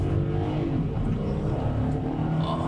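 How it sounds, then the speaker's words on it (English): A 2023 Kia Stonic with a dry dual-clutch gearbox drives along, its engine a steady low drone with a slight shift in pitch as a gear changes, heard from inside the cabin with no talking. "That wasn't a good gear change."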